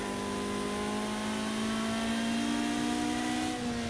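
A Ferrari F40's turbocharged engine revs hard and steadily in the Project Cars 2 racing game at Les Essarts, a loud, continuous droning whine with a rising turbo spool and no pauses.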